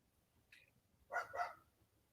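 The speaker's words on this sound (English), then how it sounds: "I heard a dog bark" A small dog, an ankle biter, gives a short yip followed by two quick barks, faint and somewhat distant against a quiet background.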